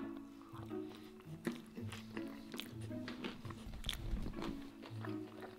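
Someone eats an O'Tacos bowl with three sauces using a fork, with close, steady biting and chewing sounds carrying some crunch and soft clicks throughout, with no talking.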